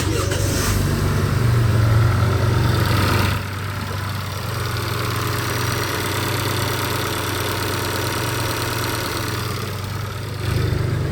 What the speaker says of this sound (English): We're going to go ahead and start the car.